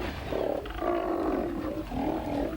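Steller sea lions roaring in southeast Alaska near Glacier Bay, a series of deep, drawn-out guttural bellows that rise and fall across several overlapping calls, fairly close and loud, with no talking.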